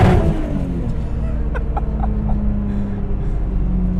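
A 600 HP R33 Nissan Skyline with an RB25 engine pulls hard under acceleration, a loud steady engine roar filling the cabin, with a driver's voice speaking briefly over it.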